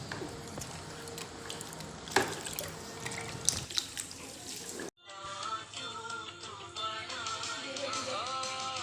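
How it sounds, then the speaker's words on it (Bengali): Water runs from a tap into a bucket, mixed with phenyl for mopping a floor at home, a steady splashing stream that pauses briefly and resumes with a fuller, gurgling fill. "এবার আমি একটু জলে ফিনাইল দিয়ে ঘরটা মুছে নেব"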